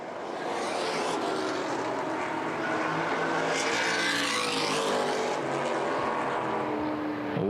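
Late model race cars roaring around Winchester Speedway on the final lap, a dense continuous engine drone with rising and falling pitch as cars pass, loud and sustained.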